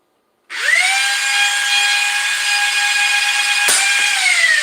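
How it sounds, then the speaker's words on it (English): A tuned Nerf Stryfe foam dart blaster spinning up its flywheel motors and firing a dart, with a sudden whirring whine that holds steady, a sharp crack of the shot partway through, then the motors keep running, close and loud. "I'm going to go ahead and just feed a dart through and see if we are kosher."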